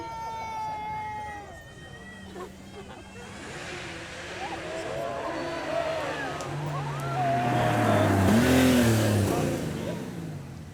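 A Porsche sports car at a supercar event accelerates away down the road, its engine rising and falling in pitch and swelling louder toward the end as someone talks over it.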